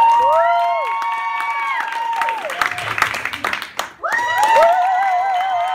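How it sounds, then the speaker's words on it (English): Crowd at a live competition event clapping and cheering loudly, with shouts and whoops rising over continuous applause, pausing briefly before swelling again. "By round of applause, who would you like to see go first?"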